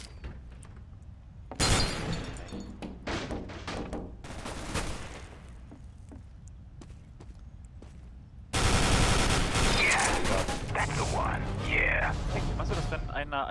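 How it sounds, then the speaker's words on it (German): Heavy automatic gunfire in the video game CS:GO on the Safehouse map, loud bursts and rapid shot volleys aimed at the player, with a long dense barrage near the end and a player talking in between. "da wird hart auf mich geschossen"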